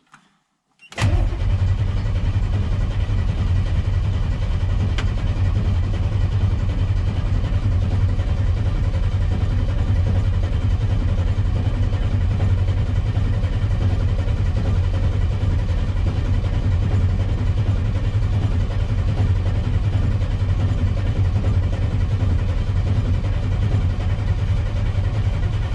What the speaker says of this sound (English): I'm going to go ahead and crank this with the ignition off so we can get some oil pressure